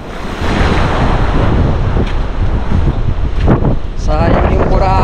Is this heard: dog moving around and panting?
no